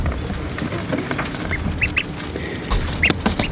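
Ducks in a mobile coop converted from a chicken coop give scattered quacks and squawks, several birds calling at irregular moments over a steady background rumble with no talking.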